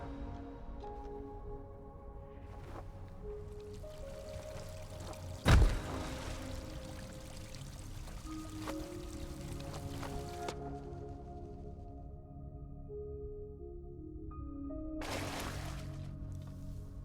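Waterfall in the video game Gris, a soft steady rush of flowing water under sustained musical tones, with one sharp thump and a brief swell of splashing near the end.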